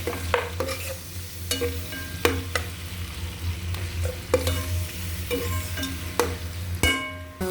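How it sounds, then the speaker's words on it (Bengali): Chopped onion pieces fry in hot oil for a Bengali shol fish and potato bhuna, a steady sizzle broken by repeated sharp scrapes and clinks of a spatula stirring in the pan, close and alone with no talking. "পিসগুলো ভালোভাবে সুন্দর করে ভেজে নিতে হবে।"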